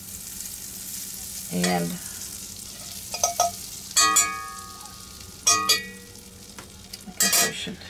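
A generous chunk of butter, about a quarter cup, sizzles faintly in a frying pan while baking a Dutch baby, under several sharp metallic clinks and scrapes of the pan, with a brief spoken word.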